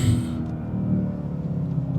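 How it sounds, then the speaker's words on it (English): A BMW G90 M5 fitted with Armaspeed intakes gives a deep, steady low rumble at close range, with a brief brighter edge at the very start that fades away. "Doesn't those intakes sound amazing?"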